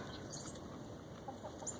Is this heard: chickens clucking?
yes